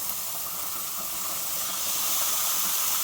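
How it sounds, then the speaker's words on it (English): Continuous close sizzling hiss of shrimp and chicken frying in a hot skillet, steady and bright throughout with no talking. "Make sure you hear that sizzle."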